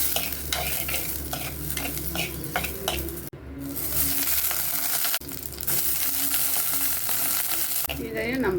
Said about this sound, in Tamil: 1 கப் துருவின தேங்காய் போட்டு அதையும் சேர்த்து நல்லா வறுத்து எடுத்துக்கலாம்.